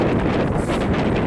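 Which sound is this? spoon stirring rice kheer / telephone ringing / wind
wind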